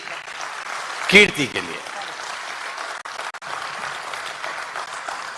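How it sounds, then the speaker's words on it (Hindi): Applause from the audience at a Hindi poetry gathering rolls on steadily, with a voice briefly heard over it near the start and brief dips later. "तो एक बार जोरदार तालियां बजाइए"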